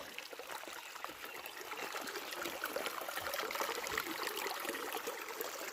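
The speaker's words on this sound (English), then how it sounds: "Go over this creek. It has good water." A small creek trickles and babbles steadily, a soft, continuous flow of water with no voices, at Sparks Creek in FDR State Park.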